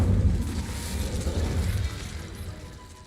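A fire spell, Incendio, cast in a Hogwarts video game gives a deep, rumbling whoosh that swells at once and slowly fades over about three seconds, heard alone.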